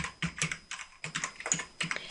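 Rapid, steady keystrokes on a wireless keyboard while entering data into an Excel spreadsheet, clicking close and clear in uneven bursts with brief pauses and no talking.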